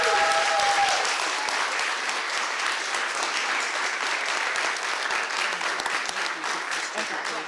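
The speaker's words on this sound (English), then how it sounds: "Give yourselves a big round of applause." An audience claps at a council meeting, a dense, sustained round of applause that fills the room at even strength and starts under a brief voice.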